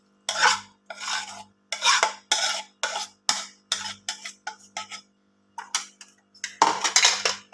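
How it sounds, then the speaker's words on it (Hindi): Utensil stirring and scraping in a bowl as fried vegetables are mixed into beaten eggs for a Spanish potato omelette, in a string of close, rhythmic bursts with short pauses between them. "अच्छे से मिक्स कर लूँगी।"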